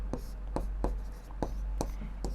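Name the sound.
writing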